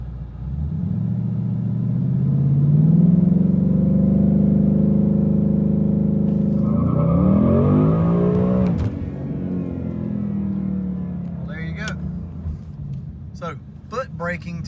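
A Ford Coyote V8 car revs while held on the foot brake, its engine climbing to a loud sustained roar, then dropping back with a rumble as someone talks over it near the end.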